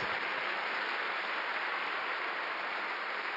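A Sunday church congregation claps in sustained, even applause that stays fairly quiet and constant throughout, without any voices.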